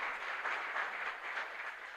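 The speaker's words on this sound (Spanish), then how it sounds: "Fuerte aplauso entonces para el Señor." Congregation applauding during a Catholic Mass in a chapel, a soft steady patter of many hands clapping, fairly distant and even for about two seconds with no voices.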